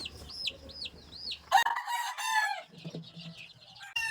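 A young chick of a backyard flock makes short, high, repeated peeping calls, followed by a burst of louder clucking and squawking from nearby chickens, close and clear in a quiet setting.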